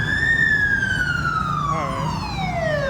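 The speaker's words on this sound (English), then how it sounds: "More ambulances." An ambulance siren on a Kuala Lumpur street wails and sweeps slowly downward in pitch, loud and steady across the whole stretch, with traffic rumbling underneath.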